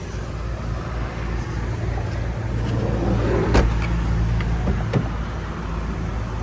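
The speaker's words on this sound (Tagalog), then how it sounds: "So, ito po yung K60 engine. 12 valve, 660cc po, 3 cylinder." A Suzuki Every 4x4 minivan's K60 660cc three-cylinder, 12-valve engine runs in a steady, close rumble, with a few faint clicks and sharp knocks over the drone.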